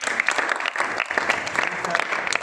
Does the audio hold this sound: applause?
yes